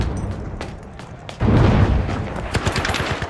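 Frag grenade blast and rapid gunfire in an online arena shooter, a heavy boom landing mid-clip over a steady crackle of shots, followed by dense bursts of automatic fire.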